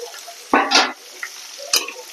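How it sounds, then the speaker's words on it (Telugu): Tomato pieces tipped into hot oil in a frying pan, bursting into a loud sizzle in two sharp close bursts with a quieter crackle between, and no talking. "ఈ మగ్గిన దాంట్లో ఈ టమాటా ముక్కలు కూడా వేసుకోవాలి."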